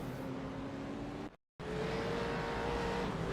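Race cars, Corvettes, roar continuously at Zolder in a racing video game, a steady high engine drone with a brief dropout of silence midway, then the engines resume.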